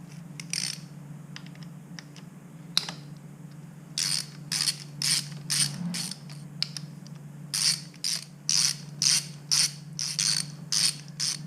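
Ratchet wrench loosening magneto cover bolts on a Suzuki RMX450Z dirt bike clicks in rapid bursts, close and crisp over a faint steady hum, the bursts turning regular and rhythmic toward the end.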